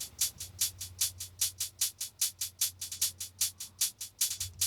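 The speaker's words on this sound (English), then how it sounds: "we have a hi-hat on the left speaker and a shaker in the right speaker" A hi-hat panned left and a shaker panned right, compressed together as a group, tick in a steady, slightly loose stream of bright strokes over a low hum.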